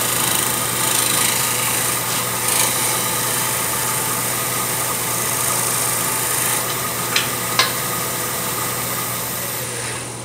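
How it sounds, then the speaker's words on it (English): A wood lathe spins a goblet while a box scraper angled as a shear scraper works the surface, giving a steady loud motor hum with faint hiss and a couple of brief ticks, heard alone. "I'm just taking my box scraper and angling it a little bit and using it as a shear scraper."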